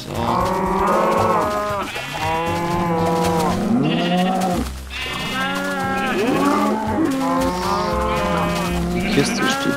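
Several Minecraft cows moo loudly in long, drawn-out calls that overlap one another, continuing steadily with barely a pause.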